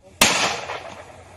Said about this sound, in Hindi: गोलियों की आवाज आप सुन सकते हैं।